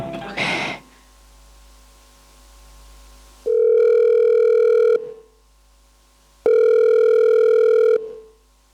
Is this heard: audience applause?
no